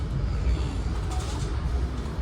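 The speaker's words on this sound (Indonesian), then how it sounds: "Habis kereta melintas terowongan Sasak Saat." A passenger train rolls through the Sasak Saat railway tunnel, nearly 900 meters long, producing a muffled, continuous low rumble with faint rattling that holds steady throughout.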